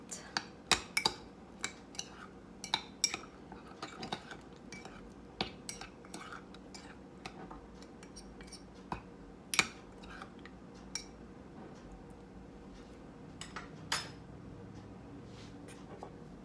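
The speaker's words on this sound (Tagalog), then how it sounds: "One tablespoon brown sugar. Mix it." Spoon stirring brown sugar into cake batter in a mug, a run of quiet irregular clinks and scrapes against the mug's sides, close and soft.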